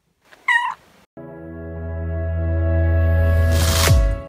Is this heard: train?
no